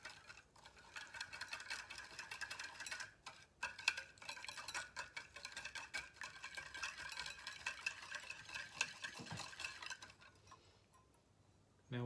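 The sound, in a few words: stirring brown sugar into ginger garlic sauce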